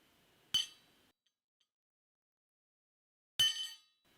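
Two sharp metallic clinks, a few seconds apart, ring out as a chisel is struck to cut a marked line into a steel base for a structural T weld, with near silence between the strikes.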